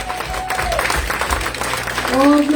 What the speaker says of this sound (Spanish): Ese aplauso sea fuerte para Cristo